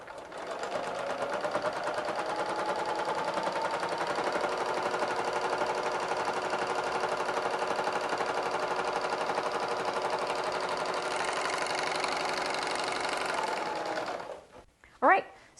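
A sewing machine stitches quilt strips together in a fast, continuous run lasting about fourteen seconds, then stops abruptly and is followed by a brief clunk.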